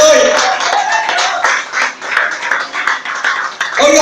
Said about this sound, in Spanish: denle un aplauso a Jesucristo, el Hijo de Dios.